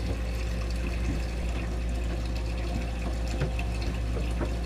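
Steady rushing and gurgling of water as a pump drains a boat's water tank, a constant low drone with splashing flow throughout, no voices.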